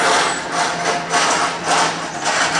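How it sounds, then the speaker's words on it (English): An RV front landing gear motor on a Keystone Fuzion Touring Edition runs steadily, a loud, close mechanical whir that pulses slightly as the leg lowers, with no voices. "the front landing gear, lower"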